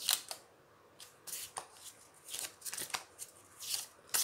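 Tarot cards being shuffled close by, a series of crisp flicking riffles and soft slaps in irregular bursts, fairly quiet.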